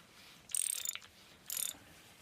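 A ratchet wrench tightens bolts on engine cylinder heads, giving two short bursts of quick, close clicking separated by a brief pause.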